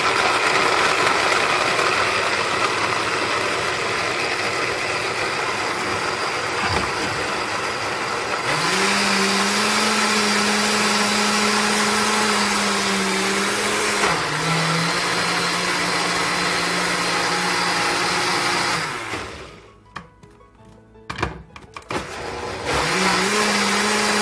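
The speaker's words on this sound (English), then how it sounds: "Blender, because she is powerful." A blender motor whirs loudly and steadily while pureeing beet, carrot, apple and ginger with water. Its pitch shifts a few times, then it cuts out near the end before briefly whirring again.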